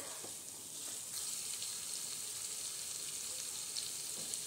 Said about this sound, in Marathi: तर ह्या भाज्या आपल्याला व्यवस्थित 2 ते मिनिट चांगल्या परतून घ्यायच्या आहेत।